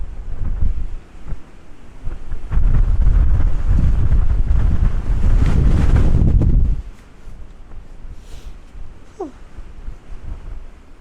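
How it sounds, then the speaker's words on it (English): Strong wind buffets the microphone at the top of a castle, a loud rumbling gust that swells and holds for several seconds before easing to a softer, steady blowing. "If I am a wobbling, it's because of the amount of wind up here."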